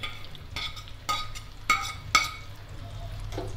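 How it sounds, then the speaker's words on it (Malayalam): Onions sautéed in oil in a pan, a few distinct stirring scrapes and clicks spaced about half a second apart over a low, even sizzle, close up and with no talking. "നമുക്ക് ഈ എണ്ണയിൽ തന്നെ സവാള വഴറ്റിയെടുക്കാം"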